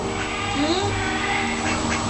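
A pet duck quacks a few times close by, its calls mixed with a person's voice speaking and imitating the quack.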